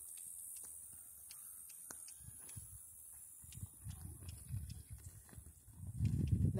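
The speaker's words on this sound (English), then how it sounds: "And now let's trot your horse." A horse trotting across a riding arena during a training ride gives a faint, irregular series of soft hoofbeats that grow louder and closer toward the end, with no talking.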